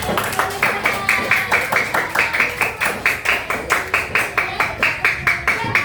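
Rhythmic group clapping from classroom children, steady regular claps repeating throughout at a lively pace, with voices faintly mixed in.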